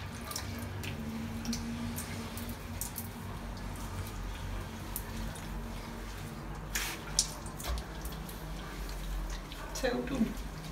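Running water rinses a greasy shower enclosure in a bathroom, a steady spray with occasional splashes and drips, while people talk over it.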